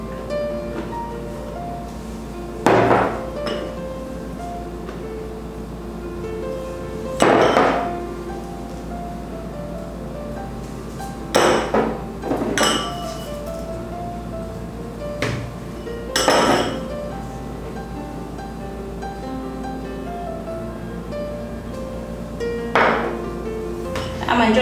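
A whisk stirs dry wheat starch, powdered sugar and matcha powder in a mixing bowl, mostly soft and steady, broken by occasional metallic clinks and knocks against the bowl spread over about 25 seconds.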